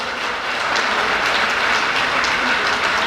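Loud, sustained applause from a crowd at a Kargil Vijay Diwas event honouring soldiers, with dense clapping throughout and no speech over it.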